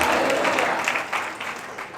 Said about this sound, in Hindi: ये इक्का दुक्का तालियां ना बजाया करें